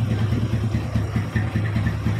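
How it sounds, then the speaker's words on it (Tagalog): An upgraded LS135 motorcycle with an NS160FI transmission and NS150 cylinder block idles nearby, giving a steady, even low rumble with a regular pulsing beat and no talk over it. "Tahimik yung makina yan."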